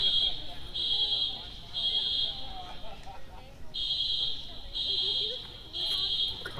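Several loud electronic alarms go off together as a smoke detector sounds, giving a steady high-pitched pulsing beep in repeated bursts with short gaps, over background noise.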